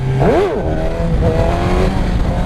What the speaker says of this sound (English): you'll hear my RPM range ride out faster than I was during the wheelie